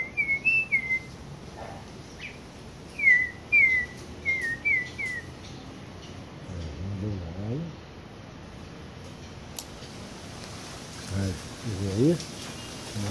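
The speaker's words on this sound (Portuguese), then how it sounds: "Olha, que sabiá linda." Sabiá thrush song outdoors: several short clear whistled phrases in bursts through the first half, fairly near, with a few later calls, over a low background hiss and some low-pitched movement noise.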